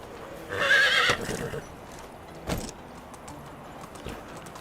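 A horse whinnies loudly near the start in the video game Medieval Dynasty, followed by a few scattered hoof thuds against a low background hum.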